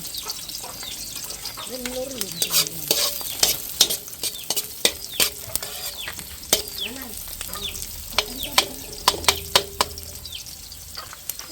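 Garlic sizzles in a hot pan for lechon paksiw, with a steady crackling hiss broken by sharp clicks of a spoon stirring and scraping, while people talk nearby.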